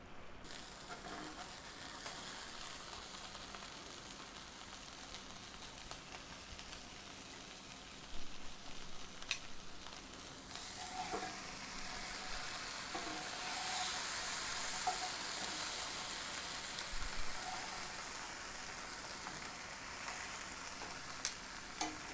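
Vegan jackfruit birria tacos frying in a pan, a continuous close sizzle that swells and crackles in the second half, with no talking.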